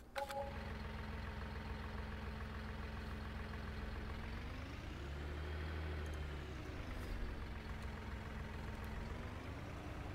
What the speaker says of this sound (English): You can hear the RPMs of the engine kick up.